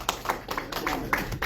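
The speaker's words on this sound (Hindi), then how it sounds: "तो एक बार जोरदार तालियां हो जाए उनके जज्बे के लिए।" Audience clapping at a mushaira poetry gathering in Tadkeshwar, a brief, fairly faint patter of scattered hand claps with uneven rhythm.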